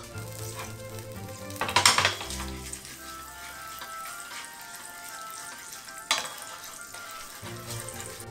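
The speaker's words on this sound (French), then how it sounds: "Je prends une poêle dans laquelle je vais mettre mes 30 g de sucre ainsi que le beurre" Sugar and butter melt in a pan with a moderate sizzle and clattery stirring, two louder bursts standing out over a quieter steady hiss.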